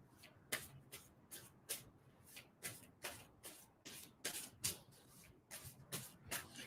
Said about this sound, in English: And I'm going to stop shuffling.